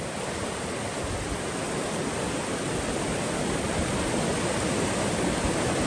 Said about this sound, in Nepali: लिउ खोलामा भल आएको बेला